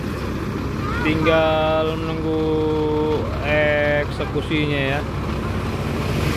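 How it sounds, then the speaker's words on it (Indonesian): A trailer truck stuck in a roadside ditch idles with a steady low engine rumble, while people talk over it and a few drawn-out tonal sounds rise and fall across the middle. "Sudah menyala mesin trailer ini teman-teman"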